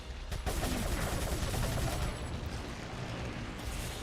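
TMP submachine gun fire in Resident Evil 4 rattles out in rapid, close bursts that fill the whole four seconds, loud and continuous with no talk.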